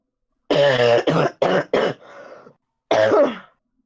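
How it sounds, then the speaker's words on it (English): A man clears his throat and coughs in a short burst of rough, voiced bursts, four quick hacks followed by a softer rasp and one more cough after a pause, close and loud. "Just coughing"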